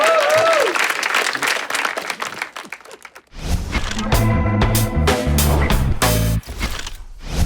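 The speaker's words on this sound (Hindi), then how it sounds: "इनके लिए तालियां बजा दो।" Audience applause at a Valentine's Day episode of a comedy show, heard as dense, close clapping for about three seconds before loud music takes over.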